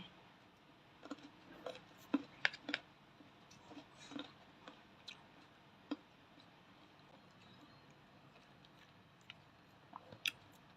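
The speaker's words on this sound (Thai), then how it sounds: "นี่เราบนจะทานผลไม้นะคะ นี่คือมะม่วง แช่อิ่มจ้ะมะม่วงแช่อิ่ม" Someone chewing Thai pickled mango close up, faint and quiet, with soft wet crunches and occasional sharper bites scattered irregularly, no talking.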